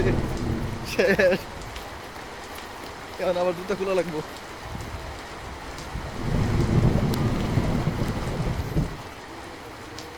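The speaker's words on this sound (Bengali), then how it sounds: "এদিকে দৈরা লাইছে রে ভাই দৈরা লাইছে বৃষ্টি দৈরা লাইছে" Rain pours down in a heavy, steady wash while a person speaks briefly and a few voices cut in over the noise.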